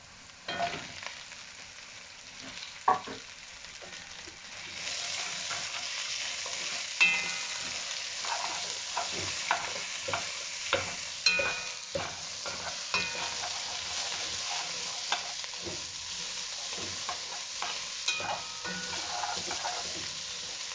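Onion frying in a pan of oil with chili peppers, bay leaf, mustard seed and cumin for a vegetable curry, a steady close sizzle with scattered crackles and spoon-stirring clatter throughout, no voices.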